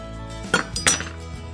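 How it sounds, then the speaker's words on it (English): A knife slicing bourbon-glazed, brown sugar pork tenderloin gives a few short, sharp clinks against a plate or board, with two louder taps close together in a quiet kitchen and no talk. "I'm slicing off a few pieces of this."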